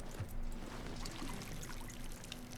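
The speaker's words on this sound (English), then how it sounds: "Can we just pour out the watering can just wherever?" A watering can in RuneScape: Dragonwilds empties in a steady trickling pour that runs unbroken for a few seconds, close and even in level, with no voices.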